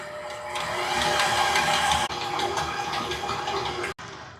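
Electric hand mixer beating eggs, vanilla extract and butter for snickerdoodle cookie dough, a steady close whirring drone that cuts out briefly twice.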